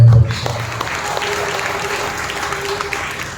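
A congregation at a Sunday church worship service applauds in a steady, dense wash of clapping that holds for several seconds, with a brief voice at the start.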